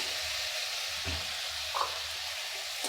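Grated chayote sautéing in ghee for a halwa, giving a steady soft sizzle throughout with a brief louder stir or scrape near the middle, close and with no talk.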